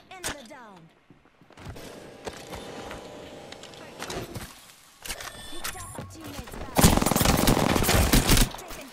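Gunfire in Apex Legends comes as bursts of rapid shots and single cracks, some distant and some close, growing to a dense, loud volley near the end, with a person talking in between.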